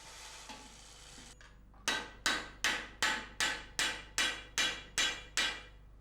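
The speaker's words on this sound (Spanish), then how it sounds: "Cuando ya tiene chafados todos los remaches a golpe de martillo" Copper rivets on a hand-built copper cauldron flattened by a hammer, landing as ten sharp, evenly spaced metallic blows close by. The blows follow a brief stretch of quieter workshop noise and ring out alone, with no one talking.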